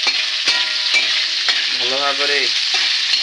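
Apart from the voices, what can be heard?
stirring onions frying in a pan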